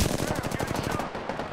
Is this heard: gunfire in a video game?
yes